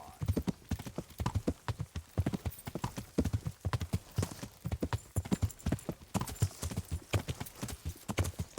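Horse hooves clip-clop in a steady, brisk rhythm while riding in the game Kingdom Come: Deliverance, loud and close throughout.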